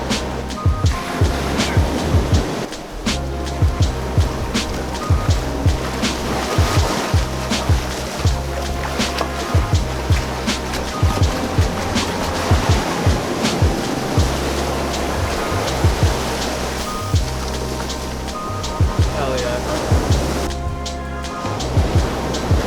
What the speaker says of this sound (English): just here out at El Matador State Beach